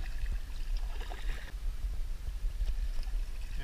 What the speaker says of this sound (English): So I'll have to paddle into slightly deeper water.